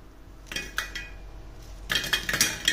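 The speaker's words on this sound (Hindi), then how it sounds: "इसकी आवाज़ सुनिए कितना क्रिस्पी बना है" Crisp, crackly crunches of fried sago (sabudana) pakoras being broken or handled, a few scattered bursts early, then a denser cluster of crunching near the end, close by.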